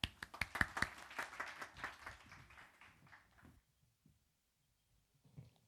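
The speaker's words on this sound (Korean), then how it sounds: "박수." Applause from a youth congregation at a Sunday worship service, a short burst of clapping that fades out after about three and a half seconds, leaving near silence with a few faint taps.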